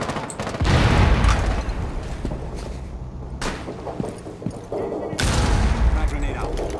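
A grenade blast in the Rainbow Six Siege video game, a loud explosive burst layered with gunfire-like cracks and rumble, dipping briefly then surging again near the end, with players talking over it.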